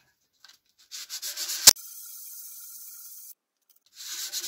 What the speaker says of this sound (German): erstmal glatt schleifen, damit ich die Klebereste weg habe